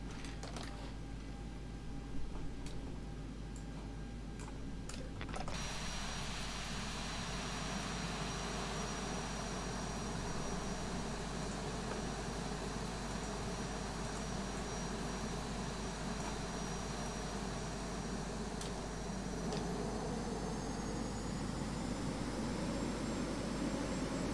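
Airliner jet engines idling and rumbling steadily while taxiing at Thessaloniki airport, a constant low broadband roar heard from inside the cabin, with a high whine rising in partway through and holding.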